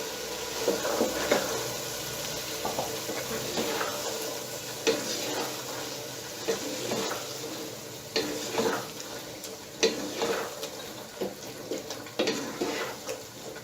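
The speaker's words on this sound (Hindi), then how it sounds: "अब इस मौके पर हम इसमें आधा किलो मटर ऐड कर देंगे।" Half a kilo of green peas stirred into softened tomatoes in a pot over high flame, with a continuous sizzle and frying hiss under repeated scraping and clinks of a spoon against the pot.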